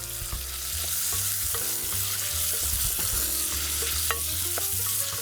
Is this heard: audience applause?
no